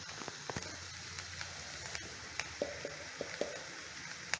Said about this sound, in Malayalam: നമ്മുടെ ഉള്ളിയൊക്കെ നന്നായിട്ട് വഴന്നു വന്നിട്ടുണ്ട്